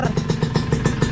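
Two-stroke motorcycle engine idling close by with a rapid, even pulsing beat and rattly clatter, steady and loud throughout.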